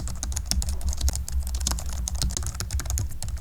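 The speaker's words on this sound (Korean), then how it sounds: "입력하는 소리가 크지 않아서 사무용으로 쓰기에 적합합니다." Steady, quiet clicking of keys on a low-profile pantograph (scissor-switch) keyboard, with a continuous run of soft taps throughout and no voices.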